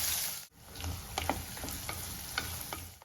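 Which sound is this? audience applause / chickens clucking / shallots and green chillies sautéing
shallots and green chillies sautéing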